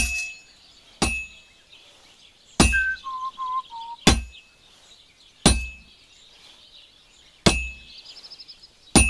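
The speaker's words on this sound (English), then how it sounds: "Now take the hammer and try hitting it a few times." In a video game, a hammer strikes a sword on an anvil with sharp, ringing metallic clangs, six evenly spaced blows, some followed by brief chiming tones, in an otherwise quiet setting.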